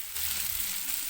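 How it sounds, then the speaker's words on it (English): Cow tripe fries in a pan in a home kitchen, a steady bright sizzle and crackle close up, with faint low stirring or scraping underneath and no talking. "So I'm frying our tripe"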